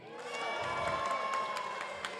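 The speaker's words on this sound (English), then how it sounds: "If we think Bop won the fight, then let's have a big cheer." Audience at a robot combat event cheers loudly for the robot Bop, a sustained mass of shouting voices with scattered claps throughout, swelling slightly in the middle.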